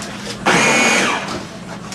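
A blender motor kicks in abruptly and whirs loudly as it crushes ice for a milkshake, a harsh grinding roar that eases slightly toward the end.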